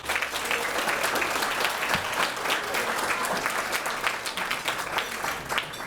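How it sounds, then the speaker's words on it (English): A round of applause for the honorees at a Carlston Family Foundation event, with dense, close clapping from a sizable audience that stays strong and even for six seconds. "let's take a round of applause for the honorees"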